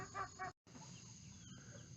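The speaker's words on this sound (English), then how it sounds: "Chickens are amazing sometimes, aren't they?" Chickens at roost give soft, faint clucks at the start, followed by a brief dropout and then a low, steady hum with only scattered faint noises.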